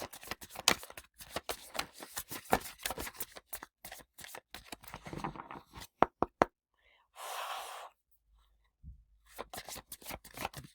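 Playing cards riffle and snap in rapid, close bursts of shuffling, pausing briefly midway before the flicking resumes.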